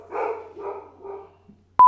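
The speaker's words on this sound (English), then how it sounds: "The barking has stopped." A dog barks three times in quick succession at moderate distance, the barks fading slightly, followed by a short sharp electronic beep at the end.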